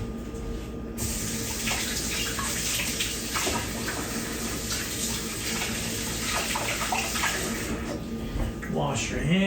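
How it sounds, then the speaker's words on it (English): Kitchen tap running steadily into a sink while hands are washed under it, a loud close continuous splash with small shifts as hands move through the stream, cutting on abruptly at the start. "I want you guys to hear the sound of the water, me washing my hands"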